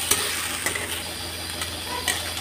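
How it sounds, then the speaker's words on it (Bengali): Raw rice grains frying over a medium flame in a pan for Chicken Tehari, a steady dry sizzle with light scraping stirs and a few soft clicks of the utensil against the pan. "দু মিনিট চালটা ভাজলাম"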